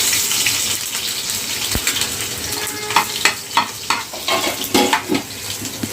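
Cumin, curry leaves, a little radish and garlic sizzle in hot oil, with a constant crackling fry broken by sharper pops and stirring scrapes in the later seconds. No one speaks.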